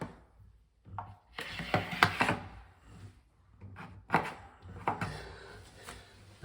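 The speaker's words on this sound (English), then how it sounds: "All I'm doing is scraping the sides, the bits that have gone up the wall." A 10mm tool scrapes excess silicone sealant off a wall in short, close, intermittent rasping strokes with brief pauses between them.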